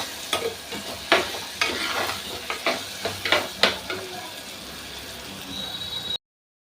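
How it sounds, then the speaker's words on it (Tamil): Onions and tomatoes sauté in a pan for a meatless fish-style curry, with a soft sizzle running throughout. Close, rhythmic scrapes and clacks of stirring repeat over it until the sound stops abruptly. "இந்த தக்காளியும் நல்லா வதங்கணும் எவ்வளோ எவ்வளோ வதக்குறீங்களோ அவ்வளவும் இந்த குழம்பு சூப்பராக இருக்கும்"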